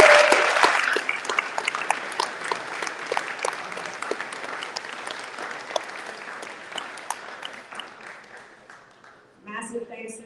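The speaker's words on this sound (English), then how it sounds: "Can we get a big round of applause," An audience at a snowpack presentation in Golden applauds, starting strong and gradually thinning to scattered claps before a voice begins to speak at the end.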